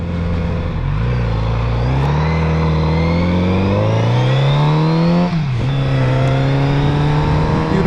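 A Kawasaki Z900RS motorcycle engine runs close and loud, settling from a low, steady idle into a gradually rising hum, then dipping abruptly and continuing evenly, with no voices.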